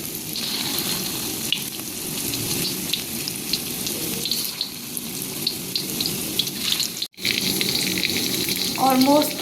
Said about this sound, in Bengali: অলমোস্ট আমার চিকেন কোফতাটা ভাজা হয়ে গেছে।